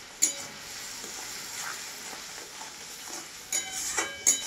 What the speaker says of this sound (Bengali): এইভাবে এবার আমি ভালো করে এটাকে ভাজবো